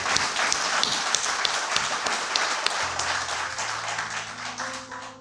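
An audience claps together at a book event on Swami Achhutanand Harihar, a steady dense patter of many hands filling the room, with a faint voice and a sustained hum creeping in near the end.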